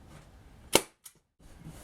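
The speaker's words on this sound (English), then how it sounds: "Now I put a staple in between each one." A staple gun fires once into fabric on a camper cushion, a single sharp close snap followed by a faint click, set against quiet room noise.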